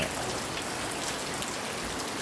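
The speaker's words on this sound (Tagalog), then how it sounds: "Nag-ulan na, ulan ng ulan" Heavy rain pours steadily over a flooded area, a dense continuous wash of drops drumming on surfaces close by, with no voices.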